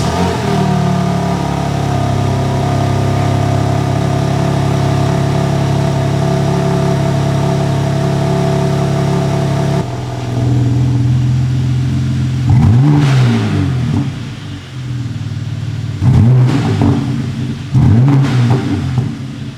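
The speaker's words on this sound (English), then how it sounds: "Now we're going to start up the M3, and I'm going to leave the valves closed until the car warms up a little bit" A BMW G80 M3 idles with a steady, loud drone, then its exhaust note turns deeper and two sharp rev blips rise and fall near the end.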